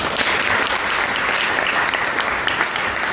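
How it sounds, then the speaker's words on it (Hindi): An audience at a district-level youth parliament competition at a school claps enthusiastically, dense continuous applause filling the whole stretch at a steady, loud level. "मैडम के लिए तालियां बजाओ जोरदार"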